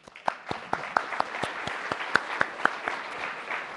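An audience claps at a talk on video game design, steady applause with distinct close handclaps rising and fading over a few seconds.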